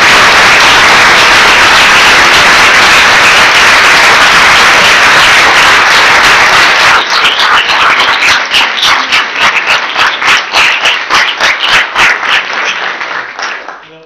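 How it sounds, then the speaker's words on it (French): Applause from the audience after a doctoral thesis defense at the Université de Lorraine, a loud, dense wash of clapping that turns into scattered, rhythmic claps before fading out. "Alors, on peut applaudir."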